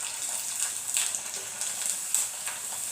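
Sabudana kurdai frying in hot oil, a steady faint sizzle with soft crackling bursts throughout, with no voices.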